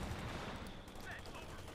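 Machine gun fire from a crew-served weapon in Company of Heroes 2, a steady distant rattle of bursts running under the battle din with a commentator talking over it.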